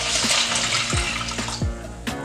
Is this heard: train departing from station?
no